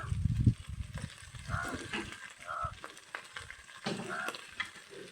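Brinjal pieces added to okra frying in a pan, heard as intermittent sizzling and stirring scrapes in a quiet village kitchen, with a few faint background sounds.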